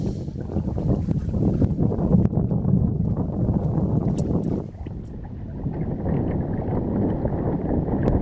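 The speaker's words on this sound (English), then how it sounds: "you can see starting to fight some wind out here today" Gusty wind buffets a fishing boat out on Celina Lake in the Hoosier National Forest, a loud rumbling roar with choppy water slaps, close and continuous, briefly easing near the middle before building again.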